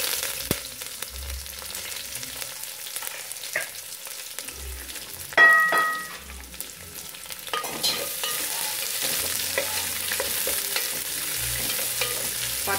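Onions fry in a pan with curry leaves, cinnamon, cloves, cardamom and star anise for a semolina kichadi biryani, a soft continuous sizzle broken by repeated scraping stirs of a spoon.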